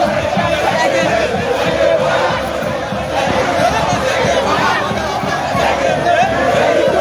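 Large crowd gathered while blocking a road in Liberia, a loud, dense hubbub of shouting and chatter from many voices, sustained and close throughout.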